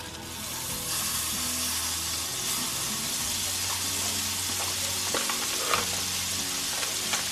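Rice and meat frying in butter in a hot pan, a steady close sizzle throughout with occasional stirring scrapes and clinks, no talk.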